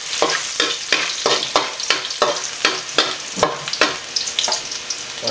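Garlic hitting hot oil for seafood fried rice, a loud close sizzle with regular stirring scrapes roughly every half second throughout, no voices.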